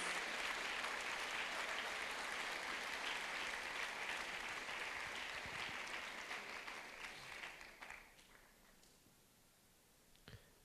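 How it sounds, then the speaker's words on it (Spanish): Sustained applause from a church congregation, a dense steady clapping that fades away toward the end, with no talking over it. "una ofrenda de palmas, usted por favor, al nombre maravilloso de Jesús"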